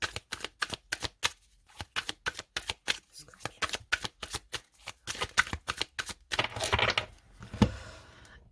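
A deck of oracle cards is shuffled and cut, giving quick repeated riffling flutters and snaps at a close, steady pace, with softer card handling and light knocks toward the end.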